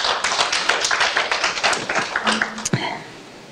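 Clapping from a poetry reading audience, applauding the event staff. It sounds dense and moderately loud, then thins out and fades near the end after a short thump.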